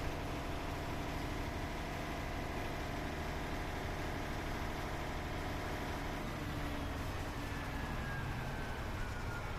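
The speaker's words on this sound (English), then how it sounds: "And now the generator start to shut down." A Caterpillar generator engine runs at a steady, loud drone throughout, with a dense, even mechanical hum and a faint rising whine near the end as it begins shutting down during a safety shutdown test.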